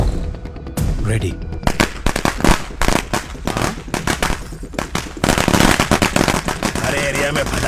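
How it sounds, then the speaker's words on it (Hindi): Rapid crackling bursts and sharp pops of firecrackers going off in dense, irregular volleys, loud and continuous, with voices faintly mixed in. "अरे एरिया में पटाखा कौन फोड़ रहे रे?"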